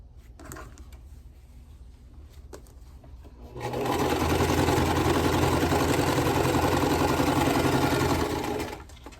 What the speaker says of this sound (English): So first, we'll sew this on.